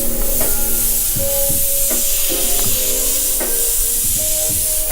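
An airbrush sprays black paint onto a T-shirt to make a simple graffiti drop shadow, giving a steady, loud hiss that runs throughout over faint tonal background sounds.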